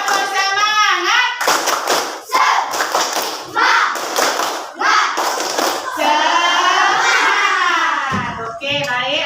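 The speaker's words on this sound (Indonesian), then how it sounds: "Oke, kalau begitu mana tepuk semangatnya?" Children in a classroom, prompted by their teacher, chant a spirited clapping cheer in unison, voices loud and close with bursts of group hand claps falling in a steady rhythm between the chanted phrases.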